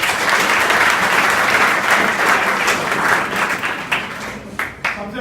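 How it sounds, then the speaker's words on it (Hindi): A class of school students in years 11 and 12 clapping together, loud and dense at first, then thinning out into scattered claps before stopping. "वेरी गुड, ताली बजाओ।"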